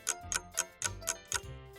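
A household clock ticks close by, six sharp evenly spaced clicks in a steady rhythm, crisp and alone against a quiet room.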